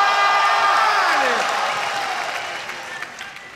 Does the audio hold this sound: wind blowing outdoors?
no